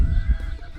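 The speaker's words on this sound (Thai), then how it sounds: "เสียงนกฮ้องกุ๊กกุ๊กกุ๊กมาจากนาผา" Birds call from the fields around a remote mountain village in rural Thailand: a quick run of low, honking calls, close and fairly loud, with no voices.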